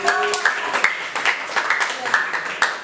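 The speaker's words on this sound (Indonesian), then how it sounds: "tepuk tangan untuk jawabannya" A class of teachers at a poetry training session claps for an answer, a quick burst of scattered hand claps under a speaking voice, close and fairly loud across a few seconds.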